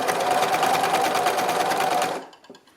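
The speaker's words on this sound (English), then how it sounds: "you're just going to follow your seam line" A sewing machine runs steadily, stitching a rib knit collar onto a t-shirt along the seam line, its close, loud, even whirr holding for about two seconds before stopping abruptly, followed by a couple of faint handling sounds.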